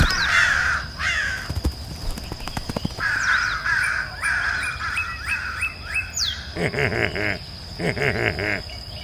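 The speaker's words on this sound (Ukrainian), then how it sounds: "Почула їх стара ворона і собі вирішила заспівати." An old crow caws repeatedly in harsh, rasping bursts, close and loud, with higher bird chirps and a thin whistle in the background.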